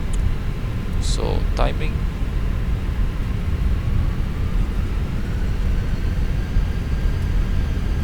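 An Airbus A320 in the Microsoft Flight Simulator 2020 game begins a rolling takeoff, with a steady loud roar of jet engines and airflow under a brief spoken remark.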